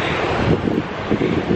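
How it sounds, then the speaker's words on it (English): Ocean waves wash steadily onto a beach on Oahu, Hawaii, with strong wind buffeting the microphone into a loud, continuous rush and no distinct breaks between surges. "The waves are coming in really close though."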